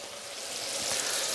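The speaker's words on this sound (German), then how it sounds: "So, die Soße kocht." Sauce for Polish-style beef rolades boils in a pot, a brief steady bubbling sizzle that is fairly faint and has no voices over it.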